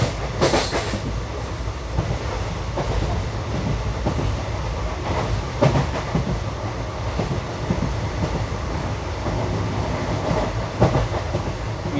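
The 16512 Kannur Bengaluru Express runs on a diverted route, its wagons rumbling with a steady clickety-clack of wheels over rail joints and occasional sharper knocks, loud and close throughout with no voices.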